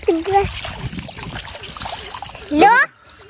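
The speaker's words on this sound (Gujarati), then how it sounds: "આપણે મિત્રો ચોખ્ખા પાણીથી મોળો ધોઈ નાખીએ" Radish splashed and rinsed in clean water, close and brief, with a bright burst near the end amid children's voices and chatter.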